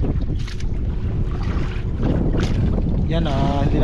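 Strong wind roars across a fishing boat at sea, a loud, constant rush buffeting the microphone, and a brief voice is heard near the end.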